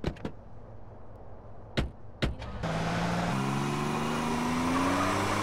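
A car in Grand Theft Auto: San Andreas: a few sharp knocks, then the engine starts up and holds a steady drone, its pitch slowly rising as it accelerates.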